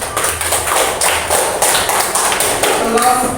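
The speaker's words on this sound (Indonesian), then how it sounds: "tepuk tangan" Classroom applause for a student group after their score is announced, a steady patter of many hands clapping at close range for about three seconds, with some voices mixed in.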